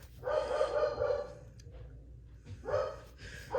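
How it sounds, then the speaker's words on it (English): A dog barks a few times, fairly loud and close, with short gaps of quiet between the barks. "Oh, my dog's barking."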